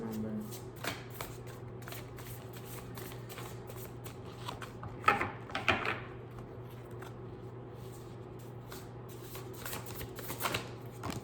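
A deck of tarot cards is shuffled by hand in soft, papery riffling bursts that grow louder toward the middle, while a voice speaks quietly now and then.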